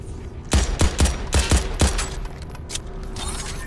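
A rapid series of loud gunshots fires in bursts at generators in the video game Crackdown 3, close and punchy over a low mechanical background hum, with no speech.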